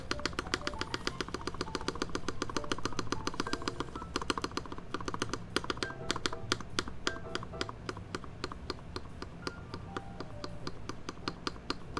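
Rapid typing on a Keycult No. 1 mechanical keyboard, a dense, steady stream of crisp clacking keystrokes with occasional heavier thocks, close and continuous without talk.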